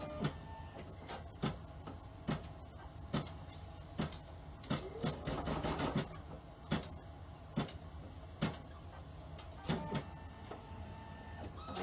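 A home embroidery machine stitches ribbon placement and tack-down lines on a 3D butterfly mask, its needle producing steady close mechanical clicks in a regular rhythm over a low motor hum, with a brief busier rattling burst midway.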